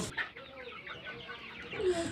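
Local free-range farm chickens clucking nearby, a loose run of soft repeated clucks and short calls over quiet outdoor background, with a brief louder call near the end.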